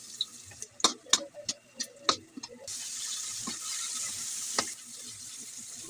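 Garlic and onions hit a hot pan for pakbet, a string of sharp clatters and stirring taps giving way to a steady soft sizzle, close and fairly quiet without speech.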